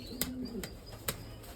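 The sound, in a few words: Hungarian pigeon cooing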